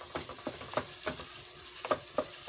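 Chopped garlic frying in hot cooking oil for menudo, a steady close sizzle with scattered crackles and soft stirring scrapes, no talking.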